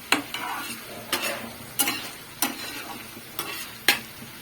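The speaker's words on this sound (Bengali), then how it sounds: "নেড়ে নেড়ে শুকনো করতে হবে আর কিন্তু ঢাকা দেওয়া চলবে না" Malabar spinach (pui shak) stirred in an uncovered pan to dry it out, six or seven evenly spaced scraping strokes over a low sizzle, close and distinct, with no voices.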